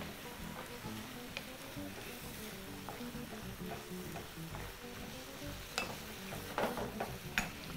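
Kenyan mukimo being mixed in a pot gives a steady, close scraping and stirring sound with a faint sizzle underneath and a few sharper clinks near the end.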